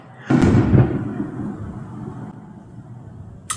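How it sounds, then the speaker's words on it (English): A single firework explodes with a sudden loud boom, then a long rumbling decay that fades into quiet, with a faint sharp pop near the end. "pretty sure that was a firework."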